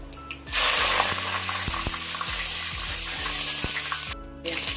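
Dried red chilies dropped into hot sesame oil after mustard seeds have popped, a loud steady sizzle and crackle close by with a few sharp clinks of a utensil against the pan, no talking.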